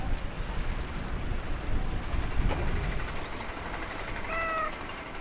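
A cat meows briefly on a shoreline, a thin rising-falling call near the end, over a steady rushing background like wind or surf.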